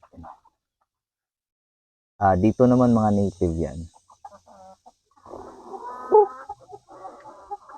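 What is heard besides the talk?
Rhode Island Red roosters clucking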